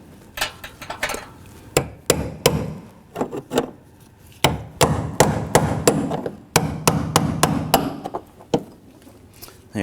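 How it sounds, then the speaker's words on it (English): A hammer drives a brass punch against the locking tab of a fuel pump module on a 2015-2024 Nissan Murano 3.5L V6, giving irregular sharp metallic taps in clusters, close and loud. "Use your hammer and brass punch to lock this in again."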